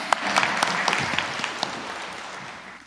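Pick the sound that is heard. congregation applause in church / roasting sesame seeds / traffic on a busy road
congregation applause in church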